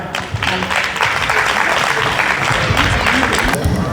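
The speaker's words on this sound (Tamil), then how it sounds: "பலமான கைத்தட்டலோட" Hearty audience clapping at a Tamil literary event in France, welcoming a young speaker about to talk on Kamban's Ramayana, a steady close wash of applause with voices mixed in.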